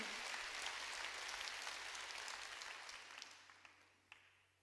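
A church congregation claps together during a sermon, a dense continuous burst that gradually fades over a few seconds beneath a low steady hum.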